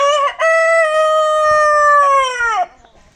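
A single loud rooster crow, long and drawn out, ringing clearly close by before cutting off.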